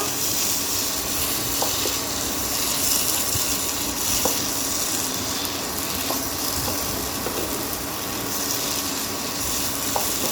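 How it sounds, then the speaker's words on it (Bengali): Taro greens cook in a pan with a paste of ground fennel and radhuni, a steady close sizzle with faint occasional stirring taps of a spatula. "মিশিয়ে নিই ভালো করে।"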